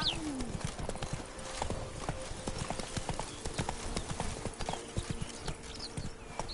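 Roach the horse gallops in The Witcher 3, hooves clip-clopping in a fast, steady rhythm throughout, with a brief whinny near the start.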